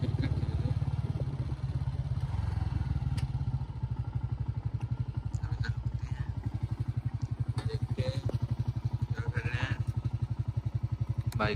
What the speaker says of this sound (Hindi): बाइक चलाना मुश्किल हो रहा है।